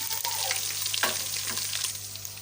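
Ginger and garlic fry in a pan for beef nihari, a close, steady crackling sizzle broken by a few stirring scrapes, with no voices.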